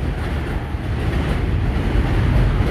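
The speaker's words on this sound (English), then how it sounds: "them trains just be rolling through here." Trains roll past on a rail line, a loud, close, continuous rumble with a low heavy drone throughout and no voices.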